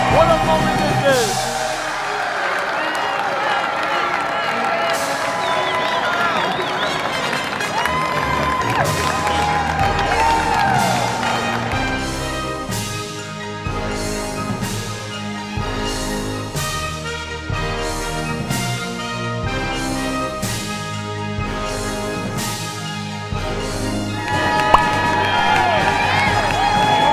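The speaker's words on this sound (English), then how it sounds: "Listen to this crowd." A big stadium crowd cheers and shouts at the close of the MLW Wiffle Ball World Series Game 5 in Mercedes-Benz Stadium, a loud sustained roar with whoops and scattered clapping, while music plays and voices talk underneath.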